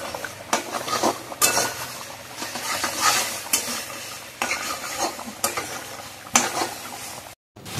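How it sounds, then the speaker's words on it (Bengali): Taro (kochu) being stirred in a hot pan, a spoon scraping through the pieces in repeated strokes while oil sizzles and fries steadily underneath, close and fairly loud, with no voices. "এবার সুন্দর করে কচুটাকে নাড়াতে হবে।"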